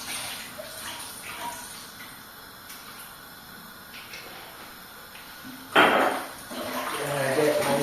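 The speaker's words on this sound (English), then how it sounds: "I am going to wash my chicken," Tap water runs while raw chicken is washed in a kitchen sink, a faint spattering flow under quiet background sounds, then a louder burst of gushing water near the end that continues to the close.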